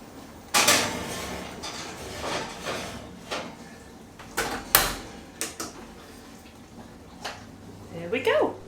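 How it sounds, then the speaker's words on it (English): A cherry pie going into a gas oven at gas mark 3, with clunks of the oven door and rack, clinks of a dish and scattered knocks as someone talks throughout. "now we're going to pop it into the oven on gas mark 3"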